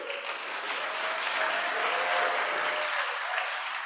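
Audience clapping at a gala for a Jewish community center, a steady, moderately loud patter of many hands that swells slightly midway, with faint voices mixed in beneath it.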